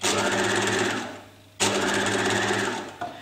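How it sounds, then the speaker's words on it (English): Sewing machine running a regular stitch alongside the seam line of a lapped zip, two continuous close whirring runs separated by a short pause. "now continuing about 1 centimetre away from the seam line, you sew in a regular stitch."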